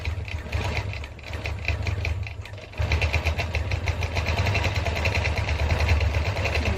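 A longarm quilting machine stitches binding onto a quilt, giving a steady mechanical motor hum with a rapid, even needle rhythm that drops briefly, then resumes slightly louder and continues without pause.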